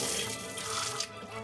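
Water runs steadily into a 75-gallon turtle aquarium, a continuous close rushing pour with no voices.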